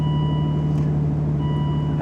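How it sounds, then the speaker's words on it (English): A steady electronic seatbelt warning tone sounds continuously inside a 2010 Aston Martin DBS Volante, with a low hum beneath it and no one talking. "Now it's beeping at me, probably telling me to put my seatbelt on"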